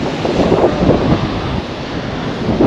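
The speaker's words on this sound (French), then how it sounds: "il y a du vent, ça bouge un peu là" Wind buffets the microphone while ocean surf rolls steadily on a sandy Atlantic beach during surfcasting, a loud, constant rushing roar with no voices.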